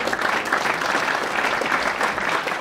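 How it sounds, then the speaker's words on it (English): Conference audience at a roundtable on project progress gives a warm, dense round of applause, steady and full for the whole stretch with no voices standing out. "A huge applause to all of you"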